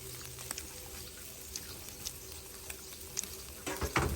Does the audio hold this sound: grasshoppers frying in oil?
yes